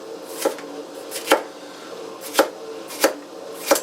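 A knife slices peppers for fajitas on a cutting board, giving five crisp, close chopping taps at an irregular pace, with no voices.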